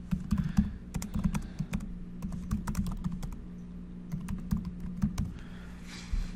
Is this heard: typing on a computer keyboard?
yes